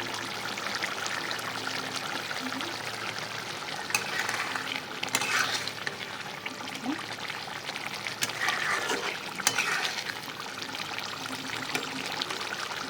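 Egg bhuna curry sizzles steadily in a pan, a continuous hiss and crackle with occasional brief clinks and stirring bumps, fairly close and even throughout with no voices.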